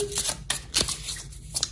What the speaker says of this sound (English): let's jump into the reading and give the cards a good shuffle